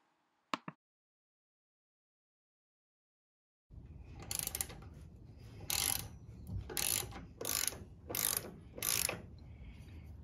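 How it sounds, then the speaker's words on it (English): A ratchet working to remove U-bolts from a utility trailer axle, a steady series of close clicking pawl strokes in rhythmic bursts after a brief metallic tap. "For the next step, we remove the U-bolts."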